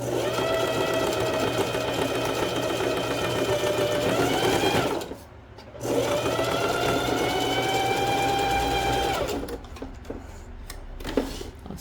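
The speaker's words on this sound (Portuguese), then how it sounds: "Tem que costurar com um pouquinho mais de calma para poder a costura fechar bonitinho." A domestic sewing machine stitches a plus-size ring swimsuit in two long, steady runs of rapid mechanical whirring. A short pause falls between them, and the clip ends with a slower stretch of clicks and handling.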